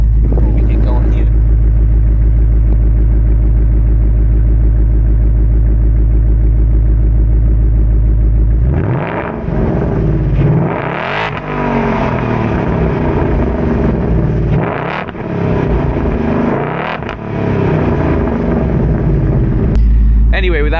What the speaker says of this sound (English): we'll give it a couple revs too before we get going here